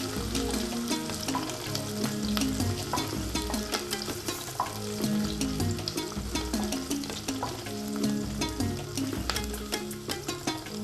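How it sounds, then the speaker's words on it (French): Onions fry in a pan as the base of a Cameroonian mushroom egusi soup, giving a steady close sizzle with occasional stirring scrapes. It runs continuously with no talking. "l'oignon est en train de cuire, il faut remuer de temps en temps pour éviter que ça colle"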